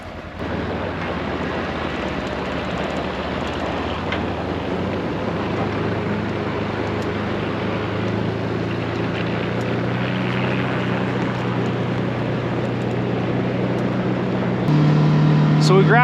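A tractor towing a hay trailer at dusk, its steady low engine drone running continuously and close by, with the pitch and loudness rising slightly near the end.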